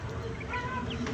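Soft, low clucking from a Brahma chicken, quiet and close, over a steady background hum.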